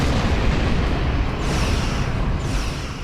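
Stationary defenses in the Star Trek Online space game firing weapons, a dense, loud barrage of rumbling blasts and booms with sharp bursts layered over it, continuous throughout.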